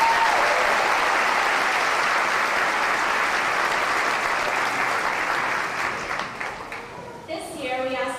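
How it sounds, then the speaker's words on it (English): A graduation audience at Minneapolis High School gives a sustained round of applause, steady dense clapping that fades near the end as a voice begins speaking over it. "would you please give her a round of applause?"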